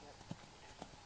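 Horse hooves clip-clop at a riding lesson over cross rails, two soft distinct beats under an instructor's coaching voice at a distance, faint overall.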